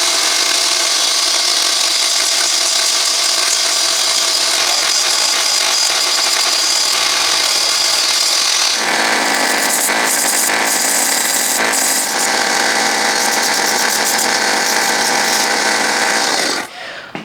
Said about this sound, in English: I'm just going to step outside with my belt grinder, and I'm going to clean these things up a little bit